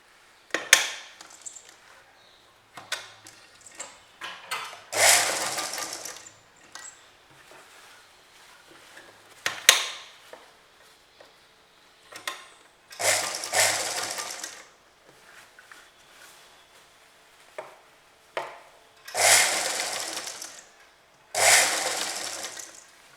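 Sewing machine stitching a festive kurti, running in several separate loud bursts with quiet pauses between them, close up and with no talking.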